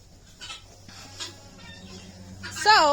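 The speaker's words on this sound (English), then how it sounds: "got some good roosters back there" Roosters and chickens at a poultry farm call from behind, with soft clucking through most of the stretch and a louder, drawn-out crow rising near the end.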